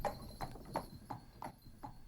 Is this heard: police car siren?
no